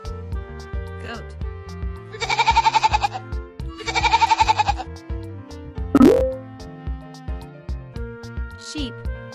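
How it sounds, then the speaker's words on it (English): Goat bleating in two wavering, buzzy calls of about a second each, loud and close over a busy looping musical backing, followed by a short splashy plop. "Goat."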